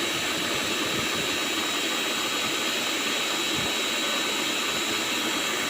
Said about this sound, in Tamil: இப்போ அரைக்கலாம்.